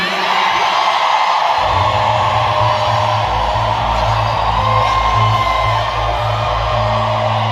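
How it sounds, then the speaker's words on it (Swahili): A congregation at a deliverance prayer service breaks into loud, sustained ululation and cheering, with steady high trilling voices layered over a broad crowd roar and low droning tones that swell after the first second and continue throughout. "Vigelegele, shangilia."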